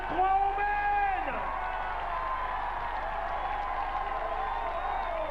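Applause and crowd noise from the Intervilles 1995 Montauban versus Agen contest forms a steady, broad wash under a voice that dominates the opening, and the crowd sound continues after he stops.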